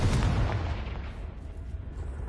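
A Confringo blasting spell goes off in the video game Hogwarts Legacy: a heavy, booming blast at the start that rumbles and decays over about two seconds, loud and close, no voices.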